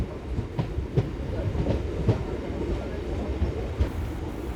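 A MEMU express train on the Narasapur to Rajahmundry line runs with a steady, close rolling rumble, punctuated by regular clicks and clacks of the wheels over the rail joints.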